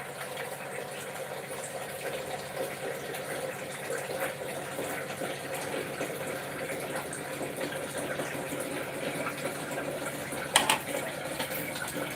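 Water runs steadily from a tap as a brass pooja vessel is rinsed, a continuous close splashing wash with a brief clunk near the end.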